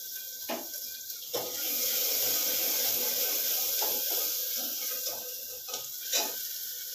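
Cumin seeds and black pepper frying in hot oil in a home kitchen, a steady close hiss and sizzle with a few sharp clinks of a utensil against the pan, no talking.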